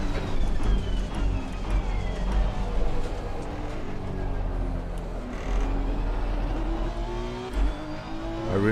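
A Honda NSX race car at Laguna Seca in a racing video game, its engine revving and droning continuously through gear changes as it accelerates, with brief tire squeal, loud and close for the whole stretch.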